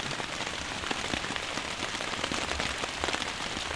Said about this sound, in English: it's mostly just heavy rain